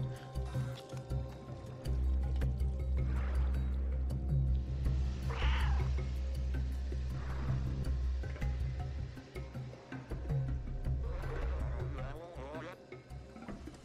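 A cat meows in the video game Stray, several rising calls spread across a dense, continuous game soundtrack with steady low ambience, clear but partly blended into the music and effects.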